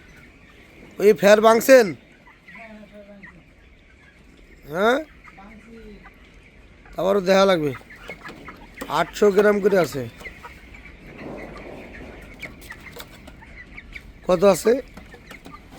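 Broiler chickens on a poultry farm clucking in short bursts while being weighed, mixed with people talking nearby.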